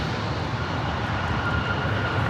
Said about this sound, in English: All right, the WestJet 737 MAX 8 heading to Toronto.